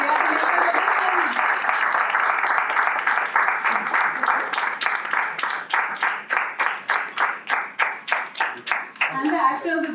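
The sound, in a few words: applause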